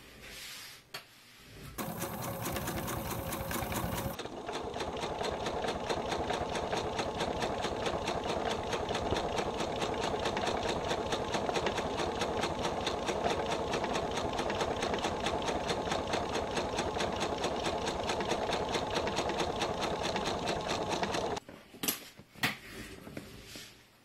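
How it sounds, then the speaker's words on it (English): Sewing machine stitching a slim wallet a quarter inch from the bottom edge, a steady rapid whirring hum with a fast stitching rhythm running continuously for about twenty seconds, close by, with brief clicks at the start and end. "We are now going to stitch 1/4 inch from the bottom."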